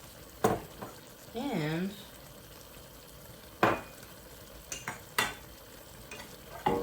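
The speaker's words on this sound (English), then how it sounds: "I'm going to stir that in" Green onions and garlic being stirred into a sausage stew in a pan, with soft sizzling under sharp scraping strokes from a utensil, a quick metallic clink and a brief spoken word.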